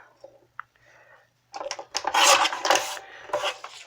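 Vellum paper is trimmed for a card, a few faint taps followed by a close, scratchy run of rasping cuts and rubbing strokes.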